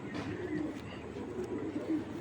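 A Maxi Dobas hen pigeon gives soft, low cooing in short murmured phrases against a muffled, noisy background, fairly quiet and continuous.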